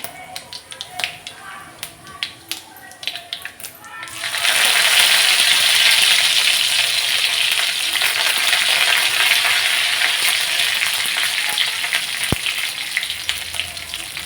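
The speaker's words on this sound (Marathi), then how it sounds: "मोहरी चांगली तडतडली की जिरे घालायचे" Mustard seeds and cumin crackle in hot oil in an iron pan, starting with faint scattered pops and then bursting into a loud, dense, steady sizzle that holds to the end.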